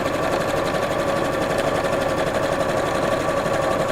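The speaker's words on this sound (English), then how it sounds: "just sewing straight lines here" Sewing machine stitching long straight quilting lines at a lengthened stitch, a steady close whirring hum that holds even and unbroken throughout with no voices.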